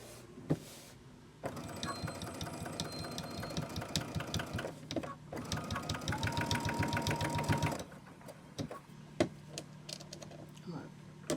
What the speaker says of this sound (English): And we're just sewing.